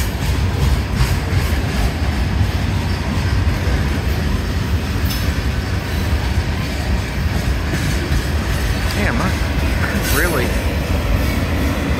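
A southbound CSX mixed manifest freight train with two mid-train DPU locomotives passes on track two, giving a loud, steady rumble with wheel noise and brief squeals, while a voice speaks briefly.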